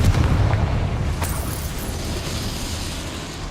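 A Confringo spell detonates in the Hogwarts Legacy video game, a loud low boom at the start that rolls off into a long rumbling decay.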